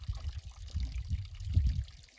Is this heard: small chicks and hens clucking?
no